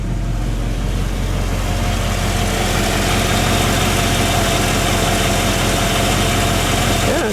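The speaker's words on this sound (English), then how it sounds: "it's a 348 Chevy with a tri-power. It's smooth." A 1958 Pontiac Parisienne convertible with a 348 Chevy Tri-Power V8 idling smoothly, a steady loud low rumble with constant even vibration throughout and no talking.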